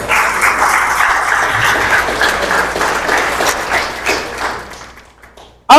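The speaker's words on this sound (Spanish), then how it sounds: "Denle el aplauso al Señor" A church congregation applauds during a sermon, with loud, steady clapping that holds for several seconds, then tapers off and stops abruptly near the end.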